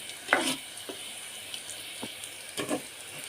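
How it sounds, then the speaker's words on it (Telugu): Food fries in a little oil in a pan, a soft steady sizzle broken by a few scraping stirs and clinks from a utensil, close and moderately loud with no talking. "కొద్దిగా ఆయిల్ వేస్తేనే ఇవన్నీ ఫ్రై అయ్యేలా వస్తున్నాయి"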